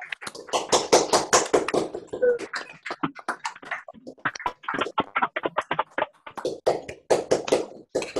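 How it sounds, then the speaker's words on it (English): Several people on an unmuted video call clap for a colleague at a year-end meeting, a choppy mix of close, sharp hand claps from different microphones in overlapping bursts with short gaps. "let's applaud David Stovall"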